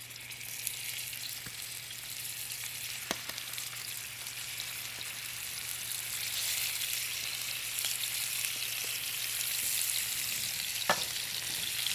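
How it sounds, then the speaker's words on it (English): Steak tips sear in a hot oiled pan, giving a steady, fairly loud broadband sizzle that runs the whole time, with a few sharp pops and crackles scattered through it. "we'll get a nice sear on every single steak tip"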